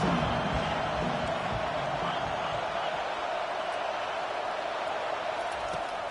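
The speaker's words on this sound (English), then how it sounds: "The roar of the crowd trying to fuel this defense to keep them pinned in their own end." A large football stadium crowd roars in a dense, steady wash of noise as fans cheer on the defense, loud and unbroken throughout.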